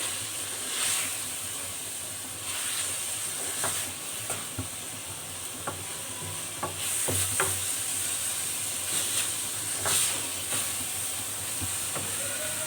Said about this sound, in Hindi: अब हम इसमें प्याज ऐड कर देते हैं तले हुए और अच्छी तरह से मिक्स कर लेते हैं।